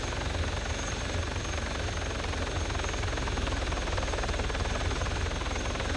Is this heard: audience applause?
no